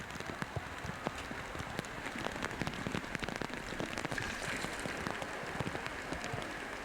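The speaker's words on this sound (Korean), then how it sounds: "여름철 소나기는 연밭의 또 다른 멋입니다" A summer shower patters on a lotus pond, with dense drops tapping leaves and water in a steady hiss broken by sharper nearby hits, fairly soft, with no voices.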